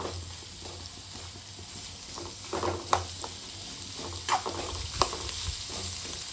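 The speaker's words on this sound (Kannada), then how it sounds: "ಅದು ಎಣ್ಣೆ ಒಳಗೆ ಚೆನ್ನಾಗಿ ಫ್ರೈ ಆಗಬೇಕು." Onion, tomato, coriander and curry leaves frying in oil give a steady sizzle with a few louder spatters and stirring scrapes, close by and alone.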